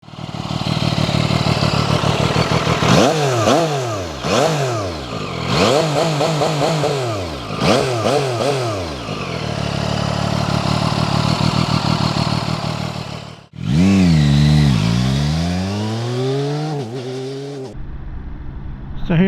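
A Zontes 703RR triple-cylinder sport motorcycle revs hard and close in repeated rising and falling bursts over a rumbling idle, with a final long sweeping rev before it cuts.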